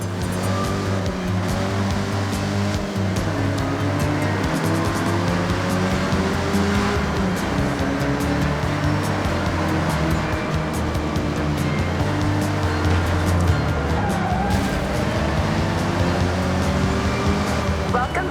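A 1974 Honda Civic RS drives in Forza Horizon 6 around Japan, its engine a steady, continuous drone with road and wind noise, while a narrator talks over it throughout.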